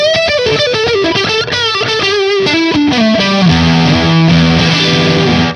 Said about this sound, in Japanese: それがこのブルースドライバーってこうジャキッとした音をしっかり出してくれる